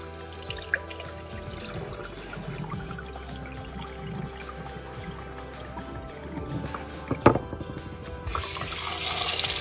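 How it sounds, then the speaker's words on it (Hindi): Basmati rice being rinsed in water several times in a kitchen sink, with steady tap water running and splashing throughout and a brief louder splash near the end. "इन चावलों को हम अच्छे से 3 से 4 बार पानी में धोकर इसको तब तक हम इसको धोएंगे जब तक कि पानी क्लियर नहीं हो जाता"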